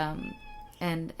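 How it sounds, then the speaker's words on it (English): A house cat meows loudly twice, with a long drawn-out call followed by a second meow after a short pause, close to the microphone. "That's my cat Ethel."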